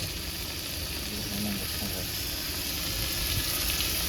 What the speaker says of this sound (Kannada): ಇವಾಗ ಇದೊಂದು ಸ್ವಲ್ಪ ತೆಗ್ದಿದ್ವಲ್ಲ ಫ್ರೈ ಮಾಡ್ತಾ ಇದೀವಿ